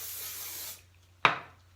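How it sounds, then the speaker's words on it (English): Hairspray is sprayed onto styled hair in a short close hiss that cuts off, followed after a brief pause by a second sharp burst. "Mama's gonna spray."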